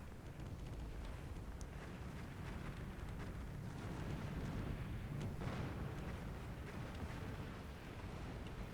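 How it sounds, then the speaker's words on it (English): Dense, continuous rumble of nuclear strikes and bomber explosions in the real-time strategy game Earth 2150, with sustained low booms blending into one another at steady loudness and no clear gaps between blasts. "Some nukes incoming. Again. Bombers striking."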